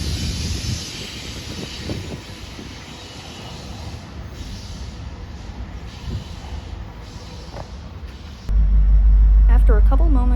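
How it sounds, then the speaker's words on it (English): A westbound Norfolk Southern intermodal freight train passes Toledo Union Station as a steady rumble and hiss, which swells into a loud, heavy roar near the end. "the surprise of a Norfolk Southern intermodal train hauling west"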